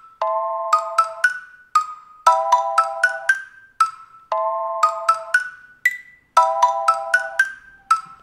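Trap beat programmed in FL Studio, with a repeating melodic synth or bell pattern in short plucked stabs and a bouncing rhythm, loud and clear with no talking.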